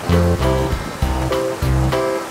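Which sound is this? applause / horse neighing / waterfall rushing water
waterfall rushing water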